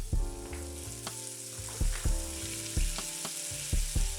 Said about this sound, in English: now mix it up rather quickly because you don't want the sugar to burn